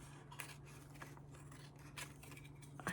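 Scissors cutting paper at a craft table: quiet, repeated short snips at an uneven pace, close and faint over a steady low hum.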